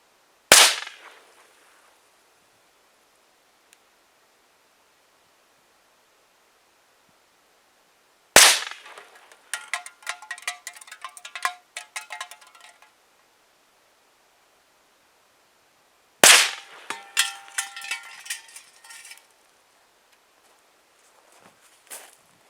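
Three sharp, loud gunshots from a Chiappa Little Badger rifle fitted with an MDGunworks furniture kit ring out several seconds apart outdoors, each followed by a brief echo and faint rustling or clatter, with no talk.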